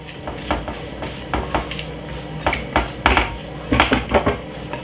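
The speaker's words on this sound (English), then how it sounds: "I don't like my cutting board rocking like that too much." A wooden cutting board rocking on a kitchen counter while salt fish cakes are prepared: irregular hollow knocks and clatters, some in quick clusters, close and fairly loud, with no talking.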